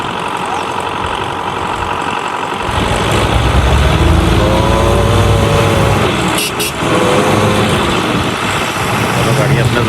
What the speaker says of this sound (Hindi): गाड़ियाँ अपना जोर लगा रही हैं